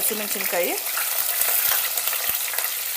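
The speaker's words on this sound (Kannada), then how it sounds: "ಕಡಲೆಬೇಳೆ, ಲೈಟಾಗಿ ಹುರ್ಕೋಬೇಕು." Chana dal lightly roasting in oil for vegetable upma, with a steady close hiss of frying and a few soft stirring knocks. A brief voice-like tonal sound is heard at the start.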